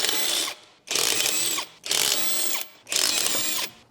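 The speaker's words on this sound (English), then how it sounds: "We'll use a 19mm deep socket with an electric wrench to remove the wheel hub bolts." An electric impact wrench with a 19mm deep socket removes the wheel hub bolts on a 2012-2015 Chevrolet Cruze in four loud, close bursts of rattling hammering, separated by short pauses.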